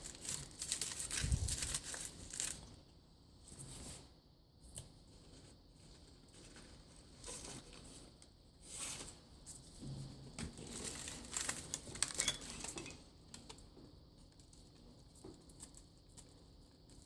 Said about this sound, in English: we bulk it up a little bit with aluminum foil